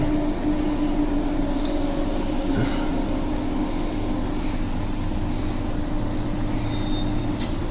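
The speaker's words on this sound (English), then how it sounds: "we can get the best view of them running through the Stow Roads on passenger services" A passenger shuttle train rolls past on the Victoria Park line, a loud continuous rumble of wheels and carriages with faint squeals and clanks throughout, and no talk over it.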